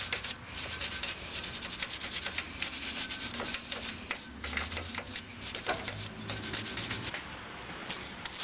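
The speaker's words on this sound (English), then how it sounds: "I'm just going to brush this off a little bit, get some of this rust off of here." Wire brush scrubbing rust off a rusted front brake rotor from a 2005 Scion tc, a steady close scratchy rasping that runs continuously with brief strokes and no talking.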